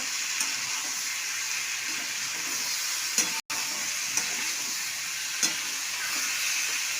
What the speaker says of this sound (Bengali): মশলা দিয়ে একটু কষে নিচ্ছি সবজিটা